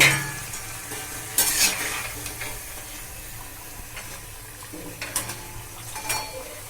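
Potato pakoras frying in oil, a soft continuous sizzle under scraping and stirring of a spoon against the pan, with a few clinks of utensils, no talking.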